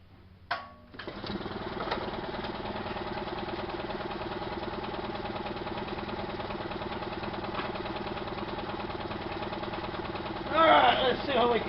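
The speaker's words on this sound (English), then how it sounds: "Now let's get the compressor going." An air compressor starts with a thump and runs at a steady, droning, knocking chug for the rest of the clip, growing louder with a burst of extra noise near the end.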